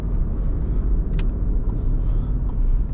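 A 2020 Volkswagen T-Cross cruises quietly, its interior filled with a smooth, steady low road and engine rumble, broken only by a faint brief click.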